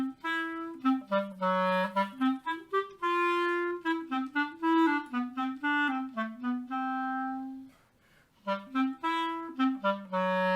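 A clarinet plays a quicker, more cheerful version of the cat theme from Peter and the Wolf, lively close-up phrases with short bouncing notes and one brief pause, no talking.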